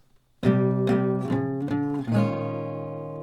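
Acoustic guitar chords strummed with several quick downstrokes, each ringing out, close and clear with no talking.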